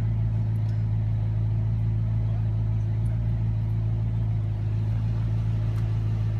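Ron Couch's 2008 ModFathers Customz Daytona race car in a racing video game at Dodge City Raceway Park, a loud steady engine drone with constant low rumble throughout, no clear revving changes.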